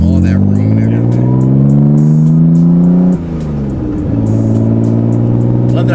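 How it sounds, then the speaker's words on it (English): A 1991 Nissan 300ZX twin turbo engine revs loudly and close, its pitch climbing steadily, dropping sharply, then rising again, with turbo whine audible over the engine. Voices talk over it. "Love that I can hear the turbos."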